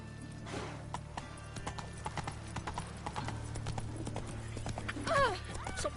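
Horse hooves clip-clop in a steady rhythm while the horse is ridden, and a short whinny or neigh rises near the end above a constant low hum.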